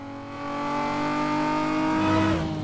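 A Lexus engine revs up in the Need for Speed Most Wanted racing game, a loud steady rising whine with layered harmonics that climbs and then shifts near the end, with no talking.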